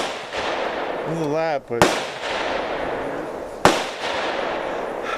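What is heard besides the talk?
gunshots at an outdoor shooting range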